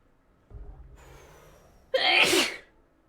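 One loud, forceful sneeze bursts out close by after a brief, audible intake of breath.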